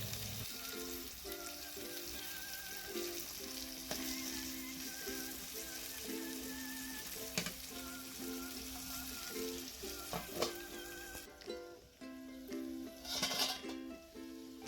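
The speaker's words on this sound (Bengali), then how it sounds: "এবারে ঢাকনা দিয়ে এগুলো খুব ভালো করে তেলের মধ্যে ভেজে নেব।" Potatoes, carrots and soybean chunks fry in oil under a lid, giving a steady, continuous sizzle and crackle at a moderate level throughout, with a few brief clinks near the end.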